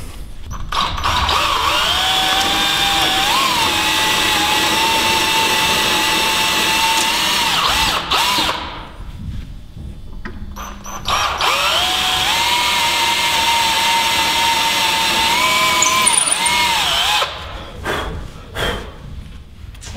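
A power drill cuts a 1/4 inch hole through a wooden toboggan board, whining loudly and steadily for several seconds, then pausing briefly before a second long drilling run, with small pitch dips as the bit bites.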